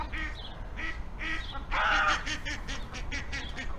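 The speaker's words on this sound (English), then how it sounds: "The birds all got excited all of a sudden." Several garden birds honk and quack excitedly in quick repeated calls. The calls are close and overlapping, with a louder burst of honking midway.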